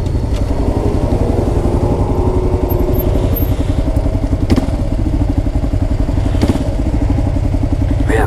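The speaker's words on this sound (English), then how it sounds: "I'll take this turn. We'll see how this bike pulls." Kawasaki KLR 650 motorcycle engine pulling hard under acceleration through a turn, a loud, steady, close thumping drone heard from the rider's position with no talk.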